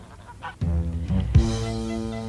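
Geese honk loudly and close by, several harsh nasal calls overlapping and then trailing into a sustained honk, alone without talk.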